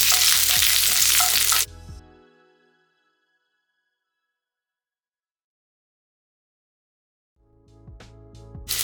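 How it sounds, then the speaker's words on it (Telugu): Garlic and split green chillies fry in hot oil in a pan with a loud, close sizzle for about two seconds, then the sound cuts to silence before a fainter sizzle returns near the end. "ఈ వెల్లుల్లిని ఒక 2 నిమిషాల పాటు వేయించుకోండి."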